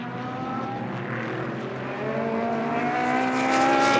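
GT race cars at the Blancpain Sprint Series in Moscow, a Bentley closing on a Ferrari, their engines blending into a steady droning roar that swells slightly louder toward the end, heard from a distance without speech.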